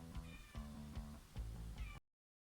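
Several cats meow near a door, loud and close, in a run of drawn-out, insistent calls that overlap and follow one another before cutting off abruptly.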